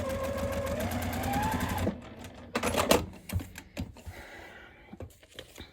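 Sewing machine doing foundation paper piecing with a short stitch length, running in a fast steady burst at first, then stopping and restarting in short, uneven spurts, close up with no speech.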